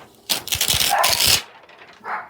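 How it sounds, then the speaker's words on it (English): A short, close dog bark, one burst of sharp yaps, followed by a faint softer sound after a pause. "And now there's a dog in the background."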